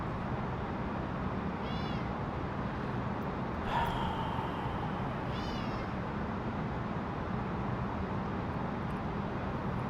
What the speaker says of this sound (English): Oh, my cat is meowing.